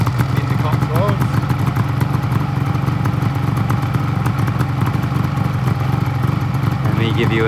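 A restored 1974 Suzuki GT750L "Le Mans" motorcycle engine running steadily with a throbbing, clattery beat, close by and continuous, with someone talking over it.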